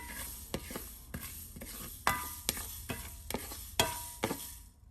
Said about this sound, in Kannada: ಈಗ ಕರ್ಬೇವಿನ ಸೊಪ್ಪು ಹಾಕ್ತಾಯಿದ್ದೀನಿ.